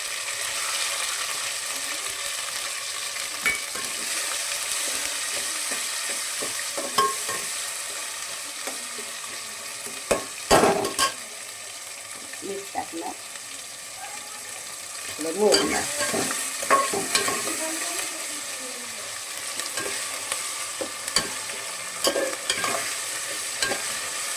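Tomatoes frying in hot oil in a pan while cooking a country chicken dish, a continuous close sizzle broken by bursts of spoon scraping and clattering, with no one talking.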